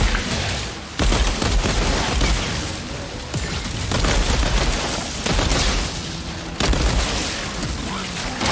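Heavy weapon fire in Outriders: continuous loud bursts of gunfire mixed with booming impacts and explosions, dense and sustained, with a few short breaks between volleys.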